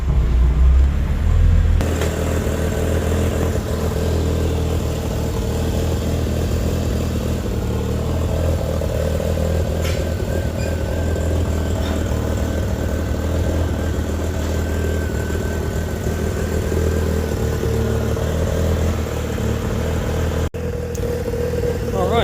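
A Mazda RX8 with a bridge-ported 13B rotary engine idles smoothly and steadily, a loud, continuous close-up drone with a light mechanical clatter and no pauses.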